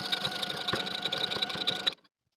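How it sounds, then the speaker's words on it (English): A sewing machine stitches the overlapped elastic ends of a skirt together in a quick, even, rattling burst that stops abruptly after about two seconds. "Now you can overlap and sew your elastic ends together."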